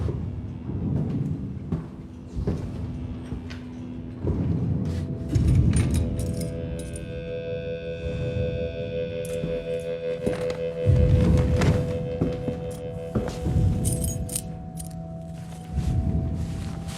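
Keys jangle in short metallic bursts over a low rumbling background, several clinks spread across the stretch, close and moderately loud, with no talk.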